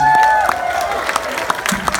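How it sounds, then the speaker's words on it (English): An audience applauds after the Cult of Chucky Q&A at Toronto After Dark 2017, a brief burst of dense clapping and cheering in a hall, fading in over a tail of amplified voice. "Please give them a big round of applause"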